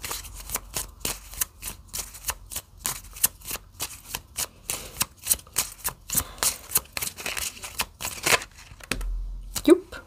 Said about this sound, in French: Je vais quand même prendre une dernière carte ici.